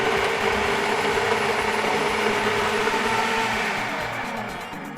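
A blender whirs steadily through pumpkin soup made with tomato paste, pulsing it to a coarse, not-smooth texture, loud and continuous before easing off slightly toward the end.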